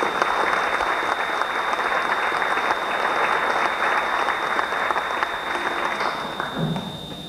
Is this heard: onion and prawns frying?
no